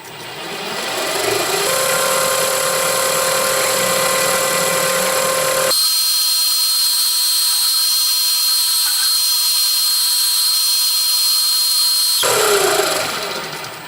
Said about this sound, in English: I'll drill 4 millimeters, which I'll set on my Quill